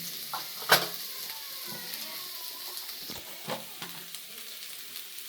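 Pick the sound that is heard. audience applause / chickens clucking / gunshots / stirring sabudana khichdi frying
stirring sabudana khichdi frying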